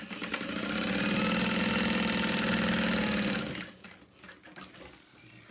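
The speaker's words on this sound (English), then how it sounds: "our back lining panel is just a little bit shorter, so we're just gonna sew that first." A sewing machine stitches a handbag's back lining panel, running loud and steady with a fast, even motor whir for about three and a half seconds, then stops, leaving only faint handling noise.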